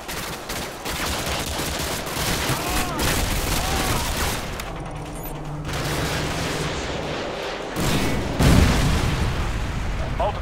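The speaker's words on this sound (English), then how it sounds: "AGM missiles online." Missile explosions and heavy gunfire in the Modern Warfare 2 campaign mission Contingency, a dense, continuous barrage of booms and bursts with a louder impact near the end.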